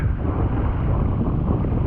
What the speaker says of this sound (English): you can hear the waves crash.